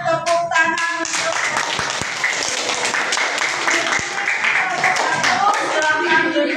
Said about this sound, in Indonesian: Kalau begitu tepuk tangan untuk